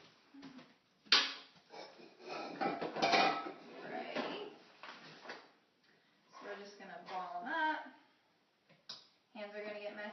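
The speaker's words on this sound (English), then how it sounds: "we gotta use a large spoon to get the cookies into little balls for our ungreased cookie sheet" A large spoon clinks and scrapes against a bowl and an ungreased cookie sheet while scooping cookie dough into small balls, with irregular close metallic taps and scrapes and someone talking at times.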